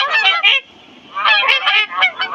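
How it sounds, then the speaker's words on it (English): A swan gives loud, honking calls in two close bursts separated by a short pause, the second burst longer with several rapid nasal notes. "Swan."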